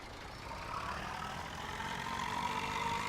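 An old tractor engine in a video game idles and chugs steadily at moderate volume, a low, rattling, rough mechanical drone with a faint higher whine.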